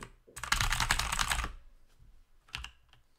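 Typing on a computer keyboard comes as a dense burst of rapid, close key clicks lasting about a second, followed by a pause and then a few scattered single keystrokes.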